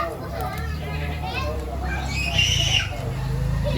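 Children play noisily outdoors at a rural creekside camp where fish are grilled, with overlapping kids' shouts and chatter at moderate distance and a steady low background hum.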